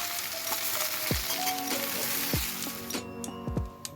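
Onions fry in mustard oil to make beresta for chicken biryani, a steady close sizzle with a few soft thumps and faint tonal sounds over it.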